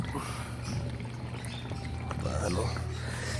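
Water pours and splashes steadily into the radiator of a Tuxing air compressor during its setup, a continuous wash of liquid noise, with someone talking over it.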